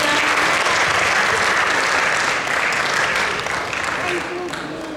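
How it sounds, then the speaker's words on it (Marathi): An audience at a school annual day claps for a child performer, a dense burst of applause that starts loud and tapers off toward the end, with a voice briefly speaking over it. "अधीरासाठी टाळ्या वाजवा सगळ्यांनी."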